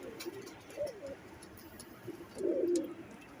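Soft, low pigeon coos come twice, a short call followed by a fuller rolling coo, faint and close with a quiet background.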